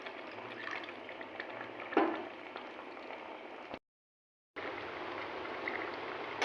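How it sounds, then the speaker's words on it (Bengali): Water is poured into a pot of vegetarian Kashmiri potato curry, giving a steady close trickling and splashing with a brief louder splash, then a short gap before the pouring resumes. "দেখো এই পরিমাণ জল আমি দিয়েছি তরকারিটা রান্নার জন্য।"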